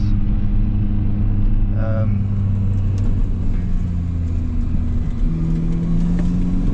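A Mini Cooper GP hums along on a test drive, a steady low engine drone and road rumble heard from inside the cabin. Someone talks over it throughout.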